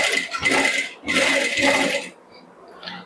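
Sewing machine stitching princess-cut blouse fabric from the lower edge upward, running in two steady mechanical bursts of about a second each, close and fairly loud, with a short pause between them and quiet afterward.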